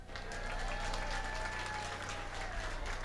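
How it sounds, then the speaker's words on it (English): Dense, sustained applause from a comedy show audience rolls on steadily for about three seconds, a continuous wash of many hands heard from some distance at modest volume, with a low hum underneath. "Give Mandela a round of applause."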